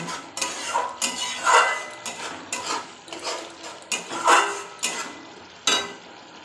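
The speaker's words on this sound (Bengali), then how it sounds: "মশলাটা আমি ভালো করে কষিয়ে নেব।" Spice masala being stirred and fried in a pan for a Bengali egg curry, with repeated scraping clatters of a spoon against metal in an uneven rhythm under a faint sizzle, close and without speech.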